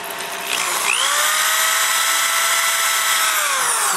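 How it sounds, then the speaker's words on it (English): A power drill with a number 30 (1/8 inch) bit spins up and bores a hole in a Harley-Davidson Tour-Pak part, a loud, steady high whine held near the mic for several seconds. "we're just going to go ahead and use the same number 30 1/8 inch drill"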